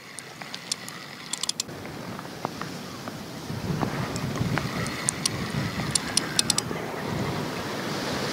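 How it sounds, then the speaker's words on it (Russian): Steady wind of up to 14 metres per second roars against the microphone outdoors at a lake while feeder fishing, with a low rumbling buffet throughout and scattered small knocks and clicks. "Ветер, конечно, да, как я и говорил, сегодня до 14 метров в секунду, то есть сильный."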